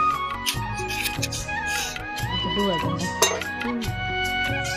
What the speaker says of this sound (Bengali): এই গরম মশলাটা দিয়ে সবজিটা নাড়িয়ে তারপর নামিয়ে নেওয়া হবে